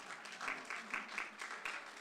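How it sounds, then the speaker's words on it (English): Soft, distant applause from an audience in a church during a community kidney health program, with claps rising and falling in small waves and a few faint voices underneath. "One more applause, please."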